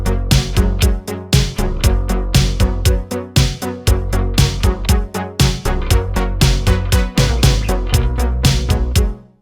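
Live bass guitar through an Ampeg amp layered with a synth bass, forming a loud, steady low foundation under a full music mix with punchy rhythmic hits throughout, no voices.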